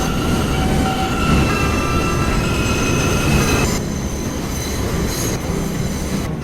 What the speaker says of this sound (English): Train is now arriving.